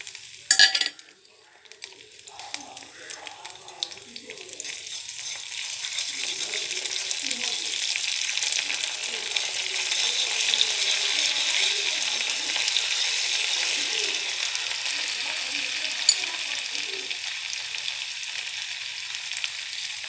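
Black pepper, cumin and ginger fry in fat for a pongal tempering, a loud, dense, continuous sizzle that swells after an opening clatter and holds steady up close, with no speech.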